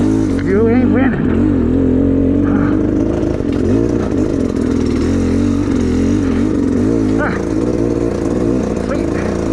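A dirt bike engine drones loud and close at low revs with the rear wheel spinning, the pitch wavering up and down throughout while a voice talks over it.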